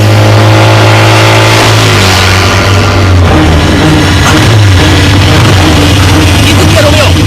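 A motorcycle engine revs loudly and continuously, its pitch rising and shifting, while people talk over it in an outdoor scene.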